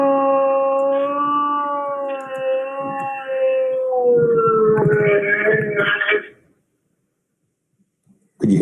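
A recorded dog sound is played back in a courtroom during a murder trial: a sustained, howl-like wail of about six seconds, then silence and a brief noise at the end.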